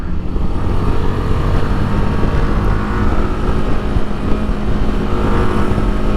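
A 2024 Royal Enfield Himalayan motorcycle roars continuously at high revs while being ridden, its engine drone heavily mixed with loud wind buffeting on the microphone.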